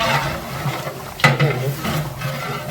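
Twenty-five kilos of mutton stirred and frying in a large biryani pot for Dindigul-style mutton biryani: a continuous, rough, scraping sizzle, with one sharper knock of the stirring tool partway through and no speech.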